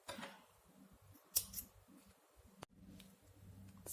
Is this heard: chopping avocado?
no